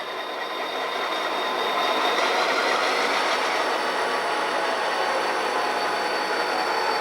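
Santa Fe locomotives shove a string of railcars backward during switching, a continuous nearby rumble of engines and rolling wheels with a faint metallic squeal, no voices.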